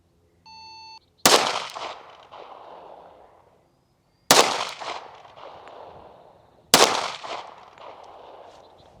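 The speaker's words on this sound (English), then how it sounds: "let's go ahead and shoot some of this Fiocchi 230 grain hardball" Three loud, sharp pistol shots of Fiocchi 230 grain hardball fired on an outdoor range, spaced a few seconds apart, each followed by a ringing decay, after a short electronic beep at the start.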